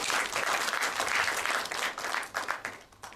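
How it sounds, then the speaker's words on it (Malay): Audience applause at a business preview talk, a full burst of clapping that swells, holds, then thins into scattered claps near the end. "Kita tepuk tangan sikit."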